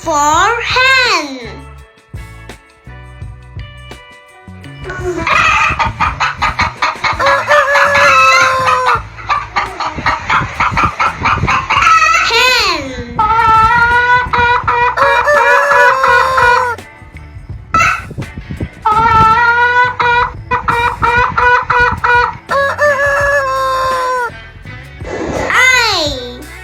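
Bird-like clucking and crowing calls mixed with a child's sing-song voice over steady, bouncy music, the animal sounds bursting in short repeated phrases.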